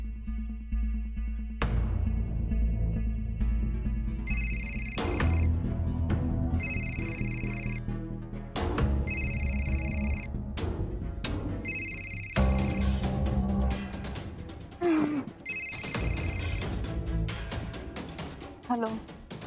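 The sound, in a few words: telephone ringing during an outgoing call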